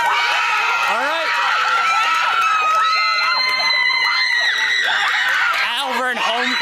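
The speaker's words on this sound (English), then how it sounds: "Alvern home crowd crushing it today" A home crowd at a girls varsity cross-country race, the 2022 Battle of the Border, screams and cheers continuously, with high shrill voices and shouting layered close and loud throughout.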